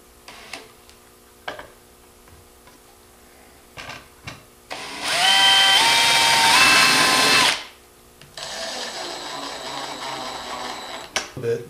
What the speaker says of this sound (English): Then I use my centering drill bit.